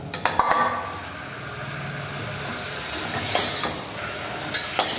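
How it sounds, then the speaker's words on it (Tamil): Chicken pieces are stirred into thick masala in a pan, giving a steady close scraping and clinking of spoon on metal over a soft sizzle, with sharper knocks at the start and end and no talking. "நல்லா அந்த மசாலா கோட்டாகிற மாதிரி நல்லா நமக்கு கலந்து விடணும்"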